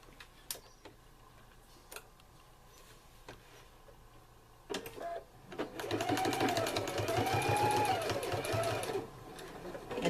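A home sewing machine stitches a clothes pin bag, starting after a few quiet ticks and clicks and running in a steady, rhythmic whir for several seconds before slowing to a stop, close and moderately loud.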